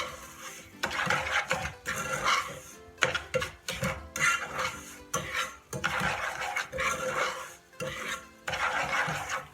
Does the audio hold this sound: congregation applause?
no